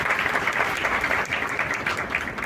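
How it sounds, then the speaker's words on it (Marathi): An audience at a religious sermon gathering in Bhandup applauds with steady, dense clapping that fills the whole stretch at a moderate, even level, with no speech over it. "ना ते टाळ्या तरी वाजवा"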